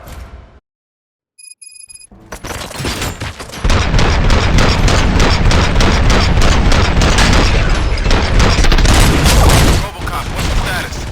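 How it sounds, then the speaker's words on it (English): Dense, loud gunfire from the video game RoboCop: Rogue City, a rapid fusillade of shots and booms that begins after a brief silence and continues almost nonstop, close and heavy. "Gunshots?"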